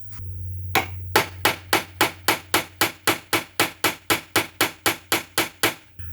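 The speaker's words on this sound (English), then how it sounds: "And now I can rivet down onto the back part of the vise." Steady, evenly spaced hammer blows drive rivets against a bench vise while fitting parts to an RCA Victor 26BP radio, about sixteen sharp, loud metallic strikes in a regular rhythm after a short low hum.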